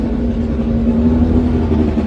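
A classic Graham Hill Racing Team race car engine idles loud and close, holding a steady deep drone with a slight rise in revs partway through, no voices over it.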